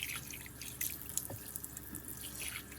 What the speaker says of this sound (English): I also don't want this water to get too hot, so I'm going to add on some cold